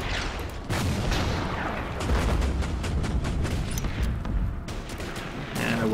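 Artillery in Order of Battle firing in a continuous heavy barrage of deep booms and crackling blasts, loud and close throughout, with no talk over it.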